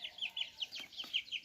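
Chickens and a rooster being fed grain give quick, repeated high chirps and clucks in a steady rhythm, with a couple of sharper calls in the middle, moderately close but fairly quiet.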